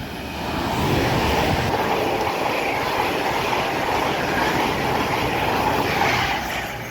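A train passes on the West Coast Main Line at Wolverton as a steady, loud rumbling roar with faint rail clatter. It holds level for several seconds with no talk.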